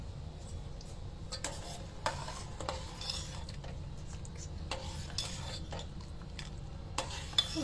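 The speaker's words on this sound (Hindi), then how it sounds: "अच्छे से चीनी को मिक्स कर लेंगे जिससे यह जल्दी से मेल्ट हो जाए।" Sugar stirred in a pot in a home kitchen to mix and melt it, a spoon scraping and clinking against the metal in irregular taps and strokes, quiet and close with no talk.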